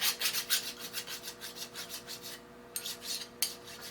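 Rhythmic rasping strokes of a file working burrs off a Stirling-engine model helicopter part, steady back-and-forth about three per second, close and fairly loud, with a brief pause before a few final strokes and no talk.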